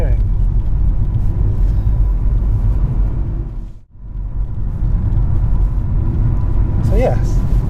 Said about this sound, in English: there's a lot of road noise coming through